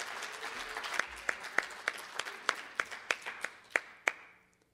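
Audience applause at the close of an art institute talk: a small group claps in a sparse, uneven patter of individual hand claps that thins out and stops after a few seconds.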